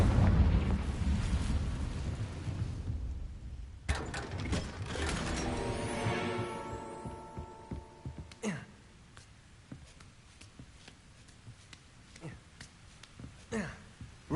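A Confringo fire spell goes off in the wizarding game Hogwarts Legacy: a loud whooshing blast with a rumbling, crackling tail and sparkly ringing, then fainter clicks and thuds of game effects.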